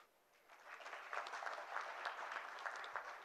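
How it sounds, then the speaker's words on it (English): Soft, distant applause from the audience at the TiEcon Kerala 2013 inaugural function, a brief crowd clapping that swells within half a second and continues evenly at low volume. "They clap on cue."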